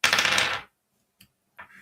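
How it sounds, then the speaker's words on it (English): Dice tumbling in a quick broadband rattle for about half a second, then a couple of faint, brief ticks as they settle, close by in a quiet room. "Rolling the dice,"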